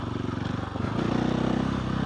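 A motorcycle engine catches and settles into a steady idle, its firing pulses close and even, sputtering unevenly at first before running smoothly.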